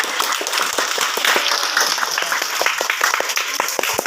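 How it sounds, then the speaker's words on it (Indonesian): Audience applause fills a thanksgiving ceremony in Wonosari, Surabaya, marking the handover of a decent-housing home: dense, steady clapping from a crowd for about four seconds, fairly close and without speech. "Tepuk tangan semuanya."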